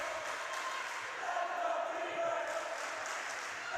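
A student cheering section at a high school volleyball match between Cass Lake Bena and Mahnomen/Waubun in Minnesota makes steady, distant crowd noise, a faint wash of voices and chanting filling a gym throughout.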